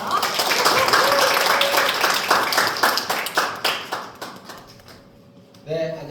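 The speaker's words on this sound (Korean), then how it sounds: "박수로 맞아주세요" An audience at a company skin-care lecture claps to welcome a speaker, a loud burst of applause that thins out and fades over several seconds before a voice begins speaking near the end.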